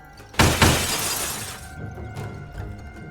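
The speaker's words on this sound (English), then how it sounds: "Shattering another Stone Skin charge." Glassy shattering crash from a tabletop game session, the Stone Skin charge breaking apart in two quick loud bursts that ring out and fade over a couple of seconds.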